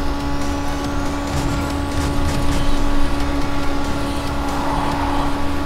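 In the video game Gas Guzzlers Extreme, a car engine roars steadily under full throttle while drifting through corners. It is a loud continuous droning hum with a constant tonal whine and no voices.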